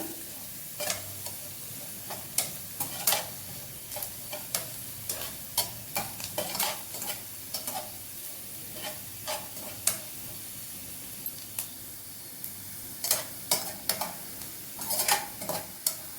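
Cumin, garlic and dried red chillies frying in oil, a soft continuous sizzle broken by repeated scraping stir strokes against the pan.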